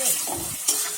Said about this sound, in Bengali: এটা ভালো করে এর সঙ্গে তরকারিটা ভালো করে মিশিয়ে নেবো।